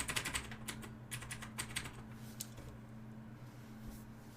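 Computer keyboard keys tapped in quick clusters to step through animation frames, sharp close clicks in short bursts that thin out toward the end, quiet and heard alone.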